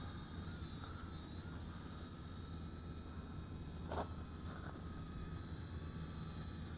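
A JXD 515W micro FPV WiFi whoop drone flies some distance away, its faint, steady high-pitched propeller whine continuing throughout, with one brief louder swell near the middle.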